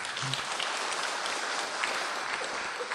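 Audience applause at a spiritual talk by Guruji Gede Prama: a dense, steady wash of many hands clapping at moderate loudness for the full stretch, with no voices standing out.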